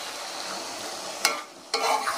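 Mutton masala for biryani is sautéed in a pot, a steady close sizzle with two sharp scraping stirs that briefly flare louder.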